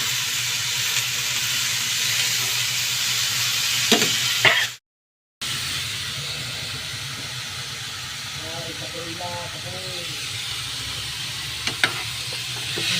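Chili sautéing in a pan for bamboo adobo gives a steady close sizzling hiss, with faint stirring scrapes and clinks over it; the sound cuts out briefly in the middle before resuming.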